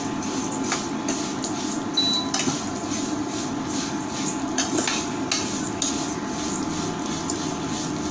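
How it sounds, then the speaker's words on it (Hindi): Vermicelli frying in ghee produces a continuous, dense hiss, dotted with light scraping clicks from stirring in the pan, at a steady, moderate level with no talking. "घी है इसमें डाल देते हैं, इसको गोल्डन ब्राउन होने तक फ्राई करेंगे।"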